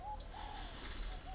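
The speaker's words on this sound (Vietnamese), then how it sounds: "Đây là giống chim chưa hề có tí cườm nào nhưng bộ rất to các bạn ạ." Spotted dove (chim cu gáy) of a pale pink-grey breed with red legs and a large build, giving soft cooing notes that carry faintly over a steady low background.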